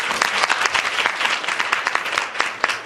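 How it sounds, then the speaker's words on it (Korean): Seminar audience clapping in a loud, close, dense round of applause, with distinct individual claps popping through the steady wash. "박수 한번 보내주세요"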